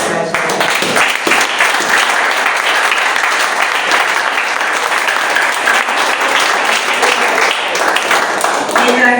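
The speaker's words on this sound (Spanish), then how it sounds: "Den un fuerte aplauso." Loud, sustained applause from a church congregation during a sermon, dense clapping filling the room steadily for the whole stretch with some cheering mixed in.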